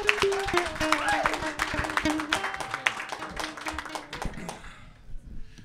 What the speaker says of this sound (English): Start clapping right now for Jonathan Simon